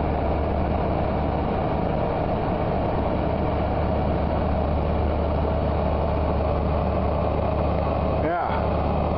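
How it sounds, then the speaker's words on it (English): A ship's exhaust scrubber runs as a constant, dense roar and rumble, loud and unbroken throughout, with a brief swooshing sweep near the end. "There's that exhaust scrubber there working."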